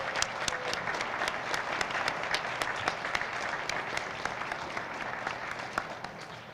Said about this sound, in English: please join me in giving a round of applause to all of our residents who have joined us today